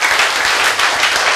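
An audience claps together at a lecture, a dense, steady burst of loud applause filling the moment with no voices above it.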